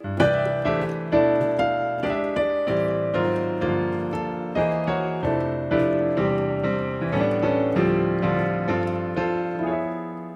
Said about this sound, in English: And extended chords sound like this.